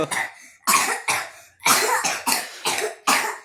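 Two young brothers compete in a playful coughing contest, seven or eight loud, harsh coughs in quick, irregular bursts at close range with short pauses between them.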